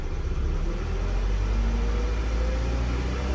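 A 2013 VW Tiguan engine, under test for low oil pressure, revs up to about 2,000 RPM as a steady, loud, close mechanical drone with a deep rumble, sounding alone and without talk.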